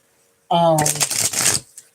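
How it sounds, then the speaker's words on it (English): A deck of playing cards is riffled and shuffled close by in a quick burst of about a second, preceded by a brief voiced sound. "I'm shuffling these cards"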